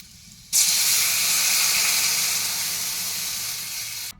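Water poured into a hot pan of rohu fish curry with potato and pointed gourd shoots bursts into a loud, steady hiss of steam that starts abruptly and holds strong, easing only slightly over a few seconds.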